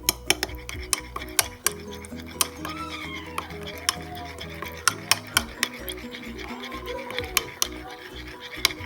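Lemon saffron mayonnaise being stirred with a utensil in a bowl, producing a run of small clinks and scrapes, with voices and background kitchen noise.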